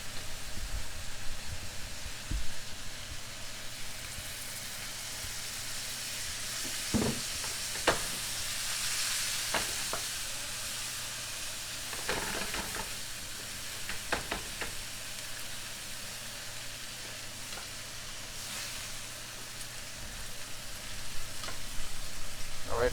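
Large pork chops frying in oil in a pan give a steady close sizzle with occasional crackles and pops, plus a few scraping handling sounds, and no talk.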